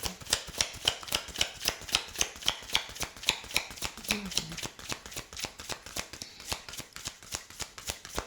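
Tarot cards are shuffled by hand in quick, rhythmic riffles. The crisp, close flicks keep an even beat from start to finish.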